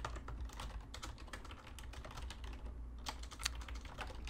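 Quick, uneven clicks of typing on a computer keyboard come in bursts with a short pause, quiet and close, over a low steady hum.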